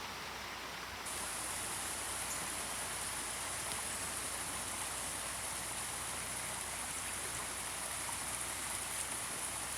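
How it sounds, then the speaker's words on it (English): A waterfall in a woodland botanical garden pours continuously, a dense, even rushing of water that stays steady and moderately distant with no voices over it. "A little bit more waterfall."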